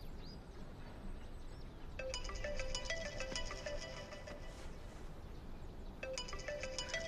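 A mobile phone ringtone plays a repeating electronic melody for an incoming call, sounding in a long burst, pausing, then starting again over faint low background noise.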